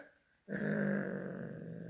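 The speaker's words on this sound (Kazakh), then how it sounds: "Ырылдай береді мысық." A cat lets out a sudden low, sustained growl that starts abruptly after a quiet moment and continues steadily, close to the microphone.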